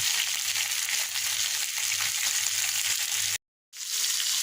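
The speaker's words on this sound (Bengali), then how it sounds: "এখন এই যে বেগুন ফ্রাই করছি" Thick eggplant slices rubbed with turmeric and salt fry in a pan with a dense, steady sizzle close up. A brief dropout cuts the sound near the end, and no one speaks.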